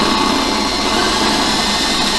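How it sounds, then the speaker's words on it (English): Power drill boring through the thick metal of a Jeep Wrangler Rubicon tailgate while a Rough Country tailgate table is installed, a loud, steady whirring grind that holds without a break for about two seconds. "the metal was a lot thicker, a lot stronger, a lot longer to drill through"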